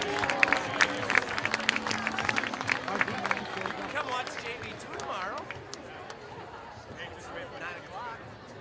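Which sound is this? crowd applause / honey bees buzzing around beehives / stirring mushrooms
crowd applause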